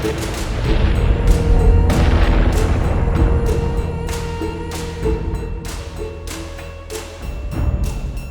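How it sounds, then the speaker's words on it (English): Missiles explode one after another in a space battle in Battlestar Galactica Deadlock, a dense, loud barrage of deep booms and sharp bursts rolling on without pause and no talk over it. "A Battlestar is being hacked. Missiles incoming!"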